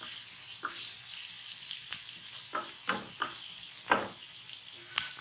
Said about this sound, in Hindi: 2 टेबल स्पून मैंने ऑयल लिया था, इसको हल्का सा गर्म किया, फिर इसमें मैंने प्याज ये ऐड कर दिए।